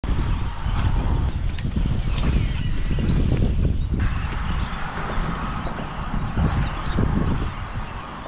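Birds, probably geese, honk from a crowded bridge during a bass fishing tournament. Scattered calls rise over strong, steady wind buffeting the microphone.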